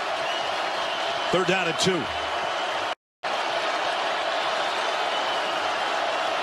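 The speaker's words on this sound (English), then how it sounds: "Georgia's half of the crowd making some noise here." Georgia fans in a packed stadium at an Alabama versus Georgia college football game keep up a steady, dense roar, while an announcer briefly speaks over it early on before the crowd noise continues alone.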